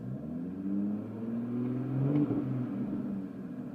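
An Audi SQ5 B8.5 engine revs steadily close by, a low rumbling drone with rising and falling harmonic tones and a brief louder swell midway, with no talking.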